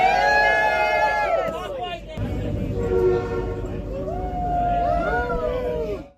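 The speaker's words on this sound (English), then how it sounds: "The horns and traction motor sounds through the city tunnels was kind of special." An electric multiple-unit train's horn sounds with long sliding tones over the rumble and whine of traction motors, echoing through city tunnels; horn returns near the end.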